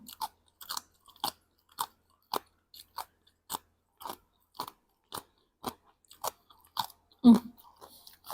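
Crunchy bites of spicy Thai cucumber salad chewed close to the mic, a steady rhythm of crisp crunches about twice a second with one louder, heavier bite near the end.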